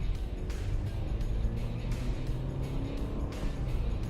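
A 2009 Mercedes-Benz W204 C200 Kompressor accelerates on a street, its engine a steady low drone with road and wind noise rising throughout.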